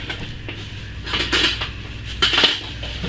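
A utensil stirs thickened soap batter mixed with cocoa powder in a container, giving a close series of clinks and scrapes in two louder bursts over a faint background, with no talking.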